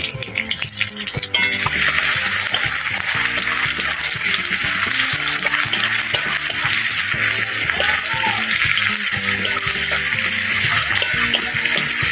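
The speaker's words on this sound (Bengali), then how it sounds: "এরপর যে পেঁয়াজ কুচিটা আমি এটা ভালোভাবে ভাজবো।" Chopped onions fry in a pan for khichuri, a loud, continuous sizzling hiss with bubbling crackle throughout and faint kitchen knocks underneath.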